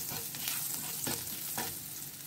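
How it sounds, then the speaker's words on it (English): Garlic fries in a pan until brown in a steady, soft sizzle, with a couple of faint stirring scrapes and no voices. "So we put in garlic. Garlic, cook cook until brown."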